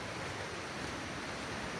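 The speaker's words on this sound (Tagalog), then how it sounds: "naririnig ko na yung lagaslas ng tubig" Steady broadband rush of a stream's flowing water along a walking trail, continuous and fairly close, with no voices over it.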